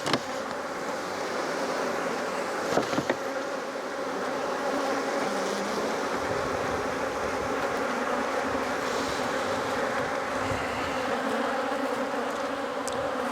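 A dense, continuous buzz of many honey bees at a hive fills the air, steady and close, with a soft hiss of wind beneath it and no talking.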